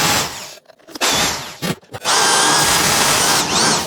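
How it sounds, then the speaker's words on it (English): A power drill fitted with a 35mm hole cutter bores hinge holes into a wooden carcass, giving a loud, steady high whine broken by two brief pauses before spinning up again, close by with no talk. "drill out these hinges right now with a 7mm start to the hole using a 35mm hole cutter"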